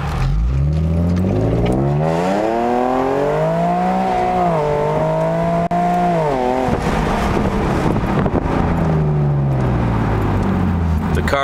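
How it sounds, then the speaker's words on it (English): A 2009 Infiniti G37S with a seven-speed automatic, MXP exhaust, new B-pipes and Berk test pipes accelerates hard through the gears in suburban traffic, its loud rising exhaust note climbing, dropping at each shift, then climbing again. "The car really did jump, and there was a little bit of a hesitation between first and second, and then it opened right back up."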